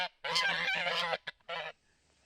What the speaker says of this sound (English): What's the matter, geese? What are you squawking about?